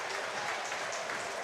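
A stadium crowd at a Munster v Leinster rugby preseason match applauds and cheers after a Munster score, a dense continuous roar of clapping heard alone for a moment.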